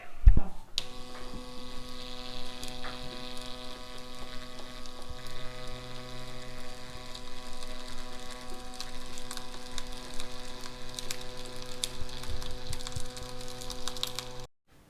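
A Yilong K3 wireless tattoo machine running with a 3-round liner cartridge on real skin, a steady buzzing hum with strong even harmonics lasting nearly the whole span, close and continuous, cutting off abruptly at the end.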